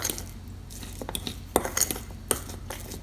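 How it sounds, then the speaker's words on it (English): A metal fork taps and scrapes against a dish in irregular clicks while mashing garlic for homemade garlic bread, close and fairly quiet. "So I'm going to mash the garlic with the fork"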